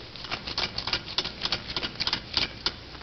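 A knife cuts deer meat at an angle, giving a fast, uneven run of close, crisp ticking and slicing clicks over steady background hiss, heard alone without talk.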